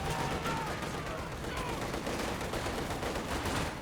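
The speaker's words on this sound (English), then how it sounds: "Enemy fire! Enemy fire!" Gunfire crackles during a Company of Heroes 2 online battle between OKW and Soviet forces. Bursts of rifle and machine-gun fire sound faint and distant in a busy battle mix.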